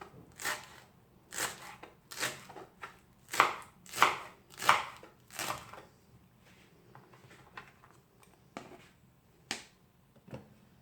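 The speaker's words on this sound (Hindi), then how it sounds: "और अब ये है धनिया, ये भी काट के कुछ ऐड करती हूँ" A knife chopping fresh coriander (dhania) on a board at home, a run of crisp rhythmic blade strikes close by, followed by a few scattered chops after a pause.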